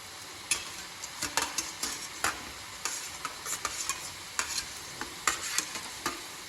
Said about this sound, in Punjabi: ਤੇਲ ਆਪਣਾ ਗਰਮ ਹੋ ਗਿਆ ਹੁਣ ਆਪਾਂ ਇਹ ਵੀ ਇਹਨਾਂ ਵਿੱਚ ਪਾ ਤੇਲ ਵਿੱਚ ਪਾ ਦਿੰਦੇ ਆ